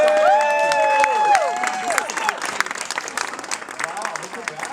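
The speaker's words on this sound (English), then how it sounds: "Round of applause, Scott and Kathy." An audience gives a round of applause for Scott and Kathy at an outdoor speeches-and-auction gathering, steady clapping with cheers that thins out toward the end, with a voice talking over it.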